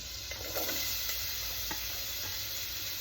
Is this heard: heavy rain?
no